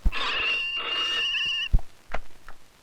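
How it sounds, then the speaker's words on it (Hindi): A telephone rings with a steady, bright electronic trill for about a second and a half, then stops, followed by a few brief thumps and short sounds. "फोन उठा लो।"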